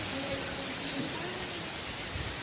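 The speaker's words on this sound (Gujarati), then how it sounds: "વરસાદ ચાલુ થઈ ગયો હે" Steady rain falling outdoors, a soft continuous hiss of drops on surfaces holding an even, moderate level throughout with no voices over it.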